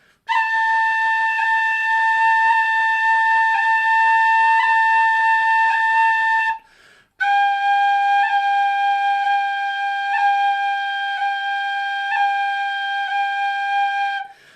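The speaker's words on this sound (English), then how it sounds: "another little exercise which I find useful is just to go up and down the whistle using the short roll" A tin whistle played in steady held notes, each broken by short rolls, moving up and then down the scale, clear and close in two phrases split by a brief pause.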